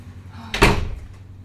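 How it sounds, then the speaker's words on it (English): A door pushed open by a cat gives a single short thud and creak in a quiet room, close and moderately loud, with no talking. "Okay, my cat decided to open the door."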